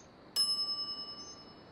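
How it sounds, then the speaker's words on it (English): A shop counter service bell from The Secret of Monkey Island video game gives one bright ding that rings out and fades over about a second, clear and isolated against a quiet background. "some idiot's already ringing that stupid bell"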